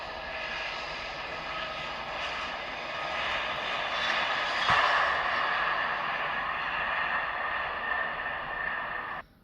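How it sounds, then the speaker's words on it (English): A toy airport playset airplane plays a steady jet engine roar for takeoff, building slightly louder midway and holding evenly before cutting off abruptly. "our airplane is ready for takeoff"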